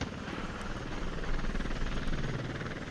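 A helicopter in the wargame Flashpoint Campaigns: Southern Storm, a loud continuous rotor and engine drone with a rough rhythmic chop, heard alone with no voices.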